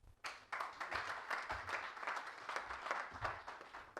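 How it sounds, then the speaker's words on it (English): Steady applause from a convention audience, a dense patter of many hands clapping that carries on throughout. "A round of applause for him again."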